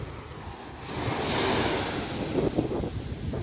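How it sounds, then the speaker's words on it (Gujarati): Ocean waves washing onto Daman beach during the monsoon, a rushing surge that swells and recedes, with wind buffeting the microphone. "પાણી બહુ મોજા આવે છે"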